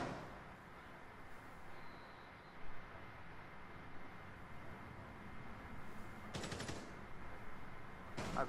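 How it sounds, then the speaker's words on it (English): Video game gunfire cracks out in two short rapid bursts, one partway through and another at the very end, over a steady low background rumble. "I bet they are so confused on where that gunfire was coming from."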